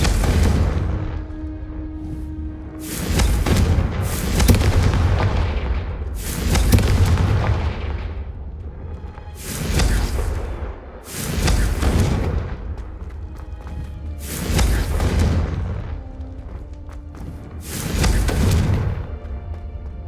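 Repeated Confringo blasting-spell explosions in the Hogwarts Legacy video game, about seven heavy booming blasts at irregular intervals of roughly two to three seconds, loud and close, each with a rumbling decay.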